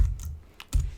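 Computer keyboard typing, a few quick keystroke clicks in a short burst with a louder tap near the end, close and alone at low level.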